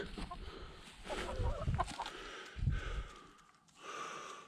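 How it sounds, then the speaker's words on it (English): Chickens cluck and murmur softly nearby, with a few short squawks and low throaty sounds over faint outdoor ambience. "there's the chickens this morning"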